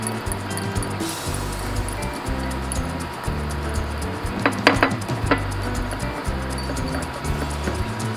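Tofu dish ingredients being mixed with salt and pepper in a bowl, with a low steady background and a short cluster of sharp clinks of a utensil against the dish.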